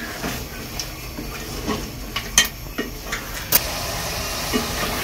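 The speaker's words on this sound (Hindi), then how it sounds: "चिकन को 2 मिनट भूनेंगे हम ऐसे।" Chicken fries in a pot for degi chicken achar gosht while it is stirred, giving a steady close hiss broken by irregular spoon scrapes and metal clinks against the pot, with no talking.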